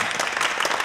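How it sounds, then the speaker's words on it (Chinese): A small group of office staff claps briefly, a dense, close patter of hand claps lasting under a second. "大家鼓掌。"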